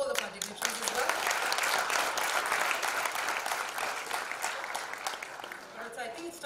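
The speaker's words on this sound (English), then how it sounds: "zordar se ek enthusiastic round of applause ho jaye to welcome all the party dignitaries" A crowd at a foundation launch event claps steadily in dense, sustained applause, which tapers off slightly toward the end.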